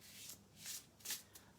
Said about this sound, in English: I'm going to give them a shuffle.